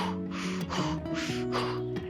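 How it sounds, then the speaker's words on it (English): Strong, deliberate breaths drawn in and pushed out during a somatic movement practice, two or three audible breath cycles close to the microphone over a soft tonal background. "you can add your breath here, inviting it to be a little bit stronger."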